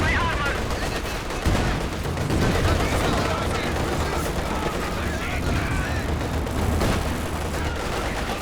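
Continuous battlefield gunfire and distant booms from a Company of Heroes 2 two-versus-two match, with rattling small-arms bursts under a commentator's talk.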